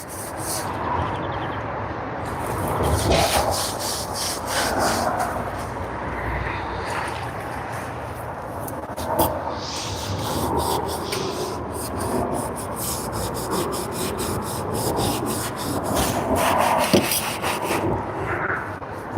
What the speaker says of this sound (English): sandpaper is probably the way to go, actually